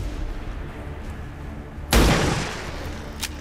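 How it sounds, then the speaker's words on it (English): In XCOM 2, a sniper rifle fires a single sharp, loud shot about two seconds in, its blast rolling off over the next second, above a low, murmuring game ambience. "I want the sniper to take a shot first"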